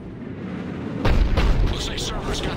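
A Cerberus cannon fires in Mass Effect 3, a heavy boom bursting in about a second in, followed by rumbling aftershocks over a steady low background.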